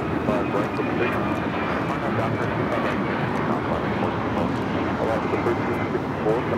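An Alaska Airlines jet takes off from runway 25 right at Los Angeles International Airport, its engines producing a steady, loud, broadband roar that holds evenly throughout without a break.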